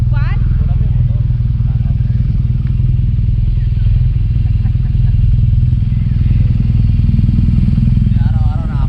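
A BMW R NineT motorcycle rides along with a steady, loud low engine drone and wind rush, carrying a passenger, while voices talk faintly over the constant noise.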